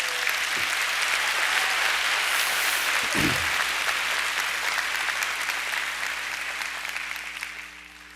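Sustained applause from a lecture audience fills the hall, dense and steady throughout before thinning slightly at the end, with a couple of brief low thumps and no speech.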